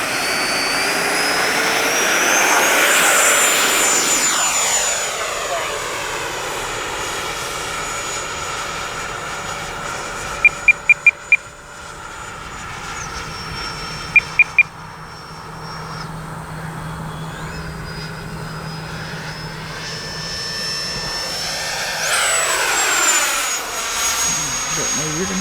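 An RC model YAK-130 jet flies overhead in a clear sky, its turbine whine rising loudly as it nears, easing into a steady distant hiss, then swelling again on another close pass, with brief beeps partway through.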